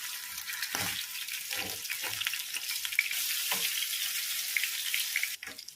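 Spicy fish pieces frying in oil in a pan over a medium flame, a steady dense crackling sizzle close by, with faint clinks of utensils now and then.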